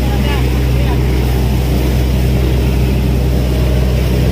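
A steady, loud motor drone with a deep low hum runs unbroken throughout, like a fishing boat engine running close by on the Pacific Ocean.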